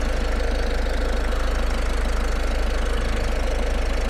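A 2019 Ford commercial car engine idles close by, a steady, even rumble with a fast, regular pulsing throb that holds unchanged throughout.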